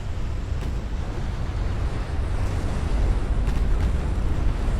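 Naval battle in Ultimate Admiral Dreadnoughts, with torpedo hits and ammunition detonations on the warship Strasbourg: a steady, heavy low rumble of explosions and sea noise, loud and continuous, with no speech over it.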